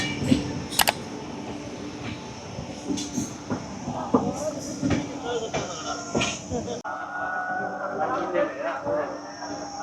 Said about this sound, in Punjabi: ਇਹ ਟ੍ਰੇਨ ਅੱਜ ਪਹਿਲੇ ਦਿਨ ਇਸ ਸਟੇਸ਼ਨ ਦੇ ਉੱਤੇ ਰੁਕੀ ਆ